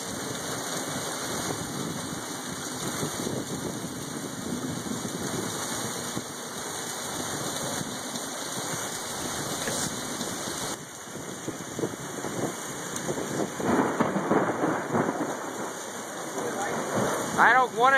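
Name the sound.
thunderstorm microburst with heavy rain and thunder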